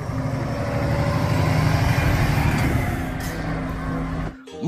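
A tow truck's engine drones loud and near with a steady low rumble that fades slightly near the end before a brief swell.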